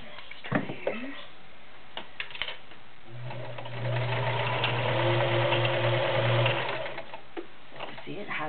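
A 1946 Kenmore convertible sewing machine stitches through four layers of denim, a steady mechanical hum with a low motor tone running for several seconds, close and moderately loud, with a few clicks and handling noises before and after.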